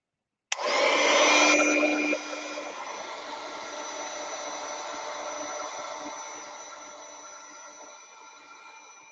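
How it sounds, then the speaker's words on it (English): Heat gun drying paint and Stabilo pencil on a book cover, switching on with a sudden loud whoosh, then a steady blowing hum that settles slightly lower and runs on continuously, close by. "Heat, heat tool, heat gun."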